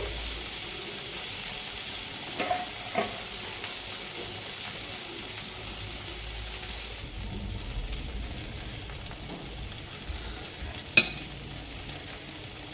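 Eggplant slices shallow-frying in a little oil, a continuous soft sizzle with a few light clicks and taps from a utensil; no voices.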